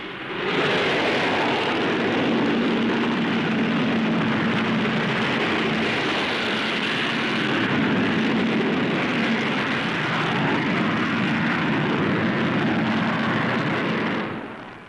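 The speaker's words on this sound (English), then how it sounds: "Watch this fantastic takeoff of the Avro Vulcan." An Avro Vulcan B.2 four-jet delta-wing V-bomber takes off at the 1959 Farnborough Air Show, a loud, sustained roar of jet engines that swells and holds steady for the whole stretch before easing off at the end.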